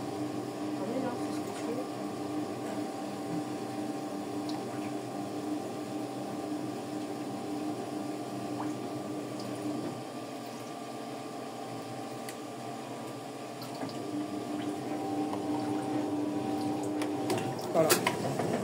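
A Brandt washing machine hums steadily through its rinse cycle, a low continuous motor drone with faint water sloshing, heard close indoors with a few clicks near the end.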